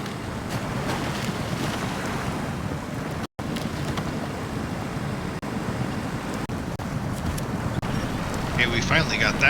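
A Ford F450 truck ploughs through a river crossing in Expeditions: A MudRunner Game, a steady rushing wash of water and wind-like noise with low rumble running the whole time, broken only by a momentary dropout.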